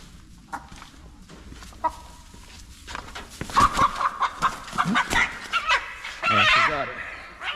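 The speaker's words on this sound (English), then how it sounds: "So see if we can catch this chicken here." A chicken clucking and squawking in alarm as it is chased and caught on a small farm, a close run of sharp, agitated calls building to a loud burst near the end, with a person talking partway through.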